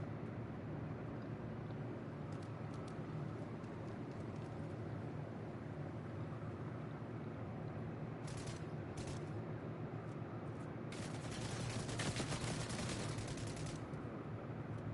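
Gunfire in the video game Fortnite sounds as quick, faint rattling bursts, mostly in the latter half, over a constant low background drone.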